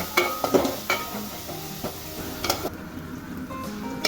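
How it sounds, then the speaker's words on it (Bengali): Onions frying in about three tablespoons of oil in a pot, with a soft steady sizzle broken by scattered sharp clinks and scrapes of stirring, fairly close and moderate in level. "এখন পেঁয়াজগুলো ভেজে নেব"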